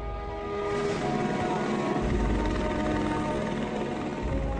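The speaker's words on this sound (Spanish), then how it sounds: "deben acostumbrarse al ruido y a las temibles hélices del helicóptero." A coast guard helicopter's rotors and engine make a loud, steady droning roar that swells in over the first second and then holds constant throughout, with no voices.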